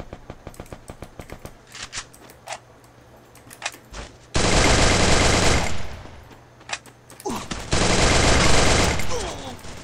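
Rapid gunfire rings out in an online shooter game, first scattered single shots, then two long bursts of loud automatic fire, with a player talking faintly in between.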